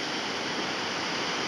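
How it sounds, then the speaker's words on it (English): Big ocean surf at Kata Beach, Phuket, a steady broadband roar of crashing and washing waves that fills the whole clip at even loudness, with no voices. "are at Kata Beach in Phuket, and the waves are gigantic."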